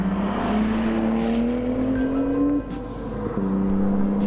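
A 500 hp MK3 Supra with a 7M-GTE engine roars loud and close through an open exhaust cutout valve, a steady droning exhaust note that climbs in pitch, dips briefly, then settles again, with no talking.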